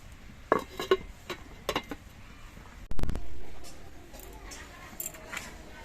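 A lid drops onto a wok of cooking greens (bete shak with bottle gourd leaves) with one loud metallic clank near the middle, after scattered utensil clinks and light kitchen clatter, then a brief ringing decay.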